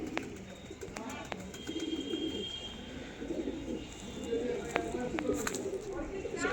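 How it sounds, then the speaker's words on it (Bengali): Andhra Star Kalanka pigeons coo in a loft in Kolkata, low repeated burbling coos close by with a few clicks and wing shuffles, while someone talks over them. "ছটপট দেখুন কিরকম পায়রা"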